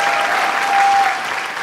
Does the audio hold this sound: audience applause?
yes